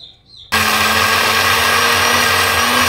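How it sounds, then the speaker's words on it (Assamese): A mixer grinder starts abruptly after a short quiet moment and runs as a loud, steady whirring roar while blending a paste with a little water. "তো এতিয়া ইয়াত মিক্সিটো পাতি দি ল'লোঁ মিক্সাৰত, তাৰ লগতে অকণমান পানী দিম"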